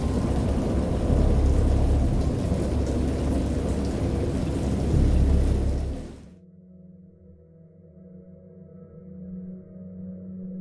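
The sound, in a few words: thunderstorm with rain in the video game Dagon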